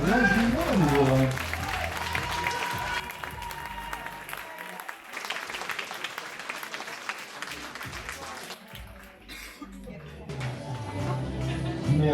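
Audience clapping for models at a fashion show, with a voice and music at the start, then moderate steady applause that thins out before swelling again at the end.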